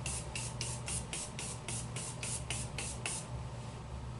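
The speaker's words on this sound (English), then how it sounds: "I'm going to spray my face." Makeup setting spray misted onto a face in about ten quick, hissing pumps at a steady rhythm, close and alone with no voices.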